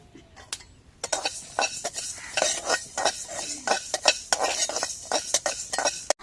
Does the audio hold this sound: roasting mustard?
yes